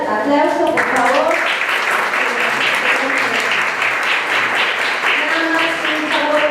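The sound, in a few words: audience applause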